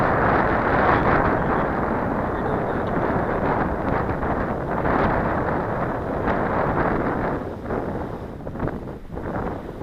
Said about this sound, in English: You definitely got some wind to fight with.